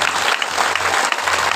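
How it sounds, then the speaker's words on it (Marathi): A crowd at a Shivnam Saptah devotional gathering in Krushnur claps hard and continuously, many hands together in a thick, even burst of applause. "तुमच्या स्वतःसाठी सुद्धा एकदा जोरदार वाजवा बरं टाळ्या."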